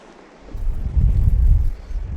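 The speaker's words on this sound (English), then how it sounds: "As the wind's pushing in from that direction." Strong onshore wind on the Northumberland coast during shore fishing, a steady low rumbling buffet that swells after a quiet start and stays loud, with no voices.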